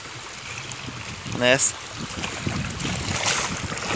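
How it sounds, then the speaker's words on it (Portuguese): Rainwater pouring in during a thunderstorm at a rural farmstead in Girau do Ponciano, Brazil: a steady, broad rushing wash runs throughout, with a brief voice rising over it around the middle. "Ó, aqui tá a água aqui entrando"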